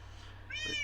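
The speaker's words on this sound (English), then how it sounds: "Here's 3 of my cats, by the way." Cats meowing, a short, clear meow rising near the end over a low steady hum.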